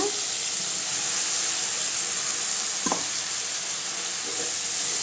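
Steady, loud hiss of fresh drumstick spinach greens sizzling in a hot pan with tomatoes, a continuous bright crackle with a couple of soft clunks of stirring.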